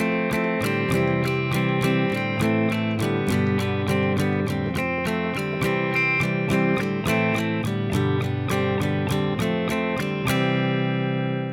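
A steady strummed guitar riff, first string muted, with a rhythmic, evenly spaced chord pattern, fairly loud and alone, ending with a ringing final chord.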